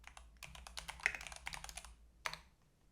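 Quiet, close keystrokes on a computer keyboard as shell commands are entered, an uneven run of light clicks with a slightly heavier tap near the end, no talking.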